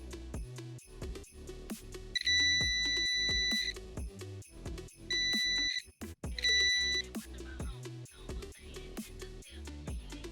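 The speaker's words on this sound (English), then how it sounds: "I am using a multimeter to check the continuity of the circuit" A multimeter gives three high, steady beeps while checking continuity on a soldered coin-toss circuit board, each beep lasting about a second, sounding above louder background music.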